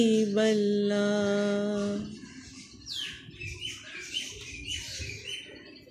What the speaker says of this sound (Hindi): ये देखें बुलबुल भी मेरी बड़ी खुश है, इस मौसम को एंजॉय कर रही है।